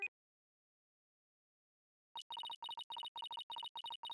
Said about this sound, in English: My phone. The same ringtone for 20 years.